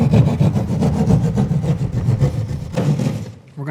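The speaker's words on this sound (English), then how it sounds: "So again, we're going to take our drywall saw." A hand drywall saw cuts through drywall while patching a damaged hole, a steady run of rapid rasping back-and-forth strokes, close and fairly loud, easing off briefly near the end.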